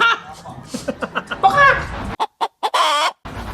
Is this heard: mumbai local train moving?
no